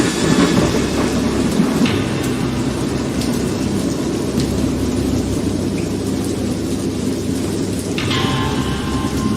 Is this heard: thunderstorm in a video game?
yes